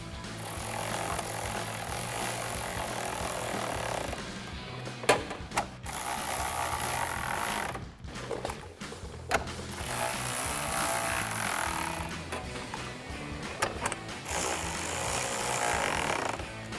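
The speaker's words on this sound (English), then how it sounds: "And then throw your ratchet on and tighten these down." A ratchet tightens fog light bolts on a 2014-2015 Sierra 1500, making bursts of rapid mechanical clicking broken by brief pauses and small knocks, close and alone.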